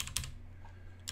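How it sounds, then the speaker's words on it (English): Fingers tap out a few quick keystrokes on a computer keyboard, soft close clicks in two short bursts with a brief pause between them. "So I'm going to type in https"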